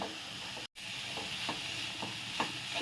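Food being stirred and sautéed in a pan in a home kitchen, cooked until the greens wilt: a steady soft sizzle with light, periodic scraping stirs, close and fairly quiet, no voices.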